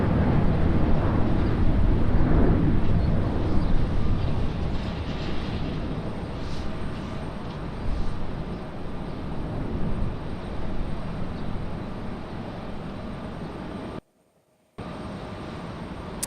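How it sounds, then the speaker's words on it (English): A Boeing 717 airliner takes off at Raleigh-Durham airport, its engine roar strongest at first and then easing into a long fading rumble as it climbs away, with a brief dropout near the end. "Takeoff for the 717 there."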